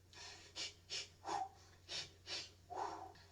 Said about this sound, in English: Gives us a chance to work on our breathing exercises.